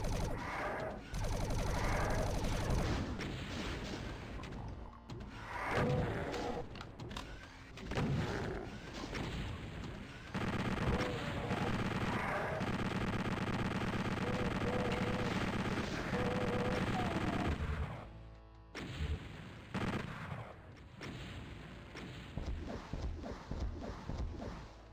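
Rocket explosions and gunfire in Doom played on the Happy.wad map, in dense, loud bursts of rapid shots and booming blasts that run almost continuously, with only brief lulls.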